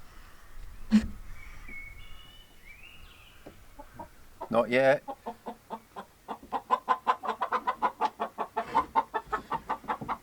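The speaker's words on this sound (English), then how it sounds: "Now I think there might be a chicken on the other side, so I better have a look." Chickens cluck inside a wooden coop with nesting boxes, a burst of rooster-like calls early on and then a steady run of rapid, close clucks building toward the end, with a brief spoken remark and handling noise over them.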